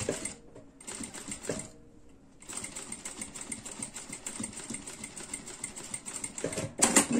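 Sewing machine stitching a handbag, running in short bursts with brief pauses, then a longer steady run of fast rhythmic needle clatter, close and fairly quiet.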